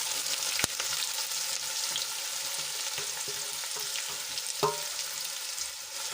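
Two finely chopped medium onions frying in oil with a cinnamon stick, star anise, bay leaves and cloves give a steady, close sizzle, broken by a few sharp clicks and scrapes of stirring.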